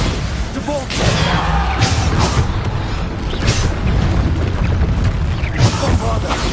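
Bombarda blasting spells cast in Hogwarts Legacy give dense, repeated booming blasts and crashes in a loud, continuous battle mix, with a voice calling out spell names over them.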